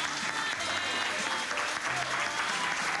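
Audience applause at a church gathering during a trip to Israel, steady dense clapping filling the whole stretch, with no voices on top.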